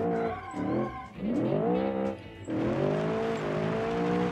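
Tires of a Ford XW GTHO squeal in BeamNG Drive under hard throttle, loud and close, in wavering, pitch-bending screeches over steady engine noise, with a brief dip before the squeal resumes.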